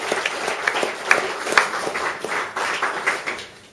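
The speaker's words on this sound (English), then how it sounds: "we'd like to give you a round of applause, if you would, for the man who set the scene in short circuits for many, many years" An audience at a motorbike show applauds Wolsey Calder, a brief wash of many hands clapping at moderate distance with a few sharper individual claps, tapering off at the end.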